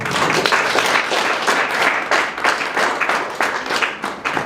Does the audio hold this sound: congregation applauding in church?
yes